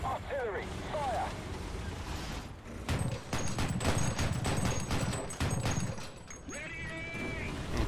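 Artillery fire in the tank game War Thunder, with a Panzer II, lands as a cluster of sharp, booming blasts over several seconds amid other battle noise, while a voice talks before and after.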